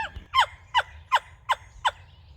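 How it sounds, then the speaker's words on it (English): A classic wooden box turkey call is worked at a hunting camp with decoys out, giving five evenly spaced, sharp, raspy yelps in a steady rhythm, loud and close, with no talk over them. "here he demonstrates the classic wooden box call"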